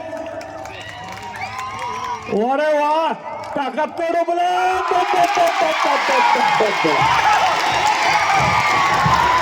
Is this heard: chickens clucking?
no